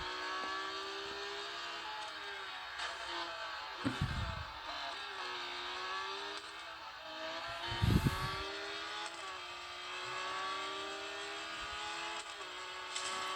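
A racing car engine from the Real Racing video game on a Meiigoo Note 8 phone, a sustained whining drone with rising and falling revs and a couple of short thumps, quiet and tinny.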